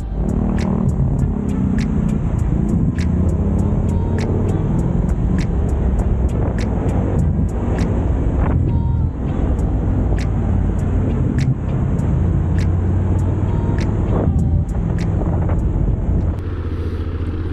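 Steady roar of road traffic with engines passing nearby, a constant vehicle rumble and a faint repeating ticking over it.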